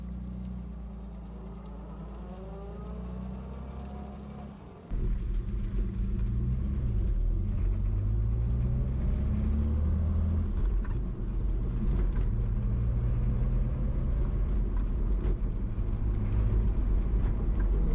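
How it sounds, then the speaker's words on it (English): A 1962 Jaguar E-Type 3.8 Series 1 engine rumbles steadily, then jumps louder and rises and falls through gears as the car drives on, loud and close throughout. "let's see what the car goes like now"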